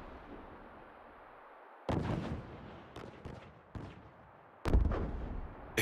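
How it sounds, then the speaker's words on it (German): Explosions and gunfire from a battle in Xenoblade Chronicles 3 erupt in several sharp blasts over a continuous rumbling background, with no voices. "Explosions? A battle?"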